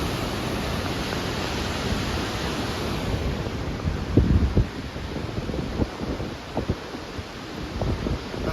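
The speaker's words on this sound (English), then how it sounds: "I'm guessing that's the Kaweah River down there." Rushing water of the Kaweah River below a trail bridge in Sequoia National Park, a steady broadband roar with wind buffeting the microphone and a few soft bumps partway through.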